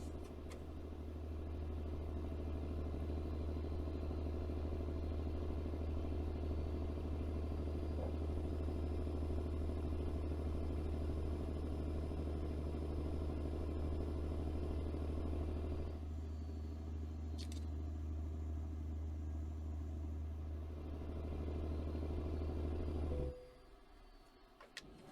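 A heavy truck engine in American Truck Simulator drones steadily on a long desert highway between Price, Utah and Holbrook, Arizona, with a loud low rumble that stays constant and then cuts off abruptly near the end.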